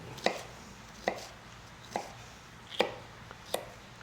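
Sharp kitchen knife chopping vegetables on a cutting board, five crisp, evenly spaced chops heard up close against a quiet room, with no talking.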